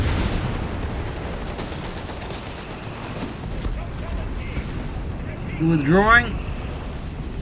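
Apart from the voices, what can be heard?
mortar and gunfire in Company of Heroes 3 video game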